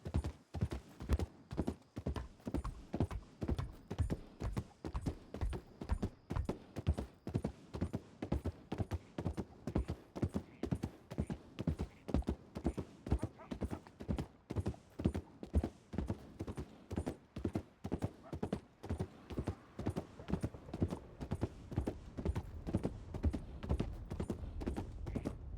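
Horse hooves clip-clop steadily in the western roleplay game WildRP, a fast, even rhythm of hard strikes continuing for the whole length, close and prominent, with no voices over it.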